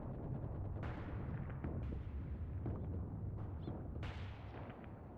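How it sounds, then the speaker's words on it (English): Mortar fire and shell explosions in the Eastern Front war game Mius Front, a dense rumbling battle bed with several sharp bursts and booms spread across the clip, no voices. "Let's send some mortars your way here."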